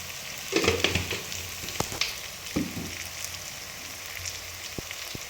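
Turmeric and chilli powder being stirred into a sizzling pan of spring onion egg curry: loud, crackling frying with scraping stirs and occasional sharp utensil taps against the pan, close by with no voices.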